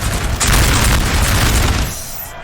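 A dense, roaring volley of musket fire rolls out in a Napoleon Total War battle, a sustained wash of overlapping shots that swells loudly, then fades over the last half-second.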